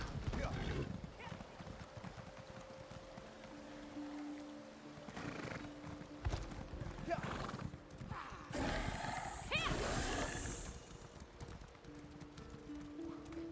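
Horse hooves clip-clop in The Elder Scrolls Online, in Markarth, with a horse neighing partway through, while people talk over the sounds.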